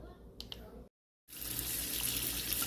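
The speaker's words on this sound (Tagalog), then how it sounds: "So, hugasan muna natin yung mga apple na to." Apples are rinsed under a running tap, with a few faint clicks and a brief silence before a loud, steady gush of water fills the rest.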